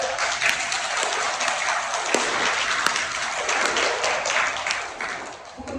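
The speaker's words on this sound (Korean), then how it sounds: "박수 한번 쳐보세요" A congregation at a Catholic church gathering claps together in dense, sustained applause that holds steady for several seconds before easing slightly at the end.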